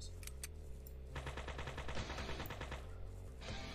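Gunfire from weapons in the video game Three's Too Many, rapid repeated shots in quick bursts with a steady mechanical rattle, close and alone.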